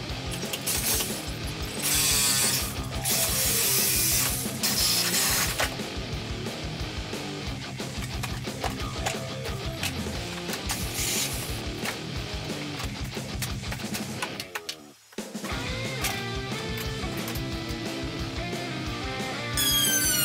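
An oscillating saw with a carbide-tipped blade cuts through material during a kitchen demolition, giving a loud, rattling mechanical buzz that runs almost continuously and drops out briefly near the end before resuming.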